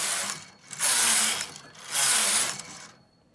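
A Brother metal-bed punchcard knitting machine knits stocking stitch as the carriage is swept across in two long, loud, raspy passes with brief pauses between them. The sound is close and there is no talk over it.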